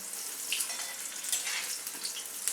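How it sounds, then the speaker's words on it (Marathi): Cabbage and chana dal vadis fry in hot oil, giving a steady, crackling sizzle close by with scattered small pops and no talking. "आपण आता तेलातच फ्राय करतोय"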